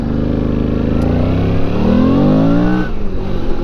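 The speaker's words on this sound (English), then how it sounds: "I love the V-twin sound." A loud, close motorcycle engine rumbles with a deep, lumpy V-twin note, then its pitch climbs as the throttle opens.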